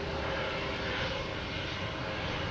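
A jet airliner engine roars in a steady, broad drone at Boston Logan Airport beside the lagoon, moderately distant and sustained without pause, with no talking over it.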